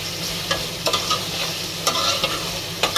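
Ground cumin, garam masala and coriander pastes frying in a pan for a beef curry, a steady close sizzle broken by repeated scraping stirs of a spoon against the pan, with no talking.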